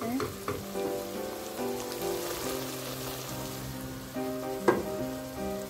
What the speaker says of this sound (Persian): بعد اینکه رب با همراه گوشت حدود 3 دقیقه تفت دادم